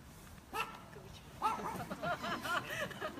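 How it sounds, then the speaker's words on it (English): Dogs bark and yip nearby during an outdoor real estate auction in Rowville, Melbourne, with several quick, yappy barks in a short burst and faint murmuring in the background. "I always set the dogs off"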